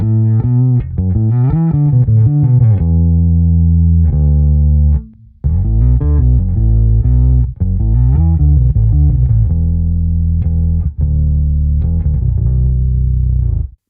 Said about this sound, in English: play the riff an octave up and you kick on your octave pedal and you still have that subharmonic content going